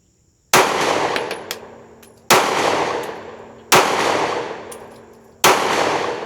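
Gunfire at shooting practice: four loud, sharp shots spaced roughly one and a half seconds apart, each followed by a ringing, slowly fading tail, with no talking.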